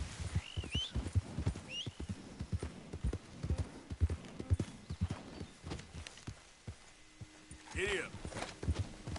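Horse hooves clip-clop at a steady walking rhythm in Red Dead Redemption 2, close and fairly quiet, with a brief whinny near the end and someone speaking intermittently over the hoofbeats.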